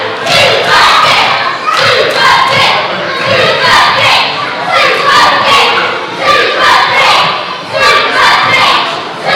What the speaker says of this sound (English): Crowd well and truly behind Sanchez in this one.